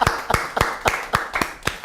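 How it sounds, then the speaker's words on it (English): An audience claps for a girl in a run of seven sharp, evenly spaced claps at a steady beat, loud and close. "Let's clap for her."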